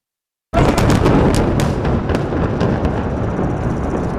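Simultaneous explosions blowing up residential buildings in the Jenin refugee camp burst in abruptly after a moment of silence, a loud boom that leaves a long, heavy rumble with crackling debris trailing off.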